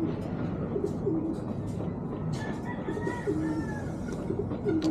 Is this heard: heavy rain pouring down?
no